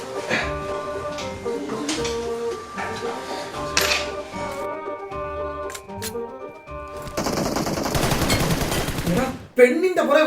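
Gunfire in a comedy sketch: rapid bursts of shots layered over music, ending in a loud, dense volley near the close, with a sharp bang just before the end.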